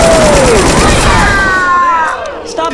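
Rapid chain gun fire rattles out loud and close in Left 4 Dead 2, a dense unbroken burst that tapers near the end, with a player's voice over the gunfire.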